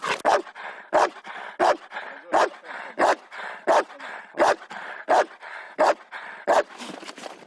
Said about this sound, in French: quand il a trouvé l'homme d'attaque, sans le toucher, il doit aboyer jusqu'à ce que le maître y revienne